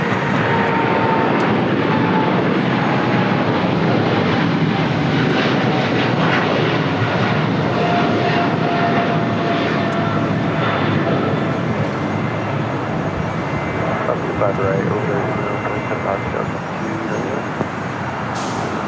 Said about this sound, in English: That is China Cargo Airlines 222, the Cargo King, taking off to Shanghai on a 777 freighter.